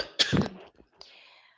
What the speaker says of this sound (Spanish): ahora sí me está dando bastante tos